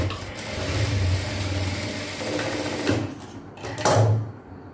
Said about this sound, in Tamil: இன்னொரு தையலும் போட்டுடுறேன்.